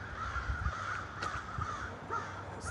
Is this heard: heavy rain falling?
no